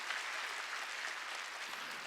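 A church congregation at a Wednesday worship service claps together in a continuous, even patter that sounds faint and distant, with no voices over it.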